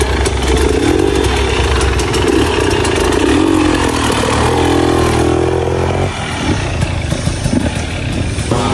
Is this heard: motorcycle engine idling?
yes